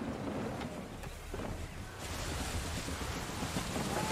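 Steady, broadband rush of gusting wind and surging sea waves aboard a sailing ship in Assassin's Creed 3, loud and continuous with no talk.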